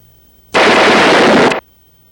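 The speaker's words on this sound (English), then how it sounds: "Took careful aim at Wes and fired one shot." A single loud gunshot effect from a gunfighter tale, a harsh one-second blast of noise that starts abruptly and cuts off just as suddenly, with near silence before and after.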